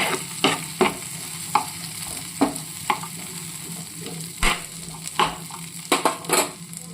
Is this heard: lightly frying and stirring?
yes